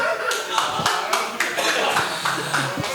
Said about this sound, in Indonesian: Tepuk tangan dulu dong buat fans Barca Liverpool.